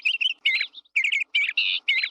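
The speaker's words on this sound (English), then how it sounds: "A bird chirping." Bird chirping in short bright bursts, several quick tweets and trills in a row with brief pauses between, close and clear with no other sounds.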